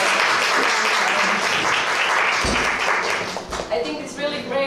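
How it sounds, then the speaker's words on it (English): Workshop audience at the University of Primorska breaking into applause, a loud sustained wash of many hands clapping that tapers off near the end, with a voice speaking over the final moments. "I think you deserve one big applause."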